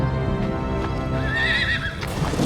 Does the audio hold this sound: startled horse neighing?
yes